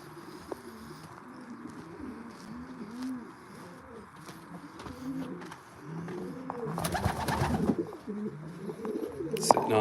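Pigeons in a loft coo repeatedly in rolling, overlapping calls, fairly close, with shuffling and wing flutters growing louder toward the end.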